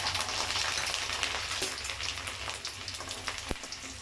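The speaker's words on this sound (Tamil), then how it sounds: "இப்போ இது கூட கொஞ்சம் பூண்டு வந்து ஆட் பண்ணிடுறேன்" Garlic, mustard seeds and fenugreek frying in hot oil for a fish curry, a dense, constant close sizzle with a few pops and a brief clink near the end, no talking.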